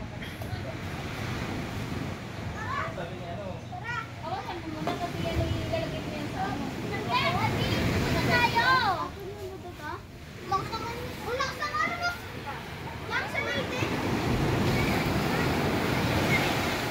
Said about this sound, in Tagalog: malapit na kami sa dagat.